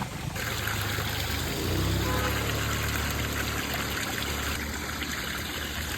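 Steady trickle of water running from a pipe at a temple near Sathyamangalam, continuous and close, with a constant background hiss and no talking.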